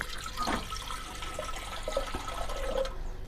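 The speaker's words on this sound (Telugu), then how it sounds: "కొంచెం పోసుకున్నానండి నీళ్ళు" Water is poured into a pot in a home kitchen, a soft continuous splashing and trickling stream close by with a few faint clinks, no voices.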